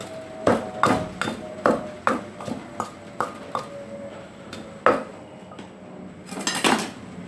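Dried mackerel is pounded into an Isan fish powder in a mortar, giving about a dozen sharp, close, loud knocks in an uneven rhythm, each with a slight ringing tone and a brief flurry near the end.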